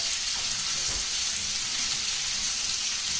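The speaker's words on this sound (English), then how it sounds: "I put a tablespoon of butter on top of that" A tablespoon of butter sizzles in a pan on top of lamb chops, a steady close hiss of frying with no pauses and no voices.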